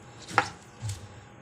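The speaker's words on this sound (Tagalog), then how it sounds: "Ang sunod is mag-slice na ta daan og lamas." Two quick knife cuts through lamas, the spices and vegetables for a fish tinola, with a sharp single chop followed by a softer one, close and quiet.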